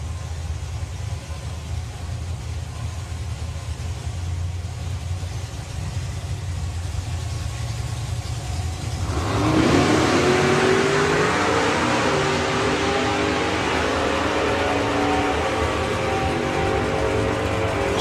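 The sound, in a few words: drag racing cars including a Corvette at the line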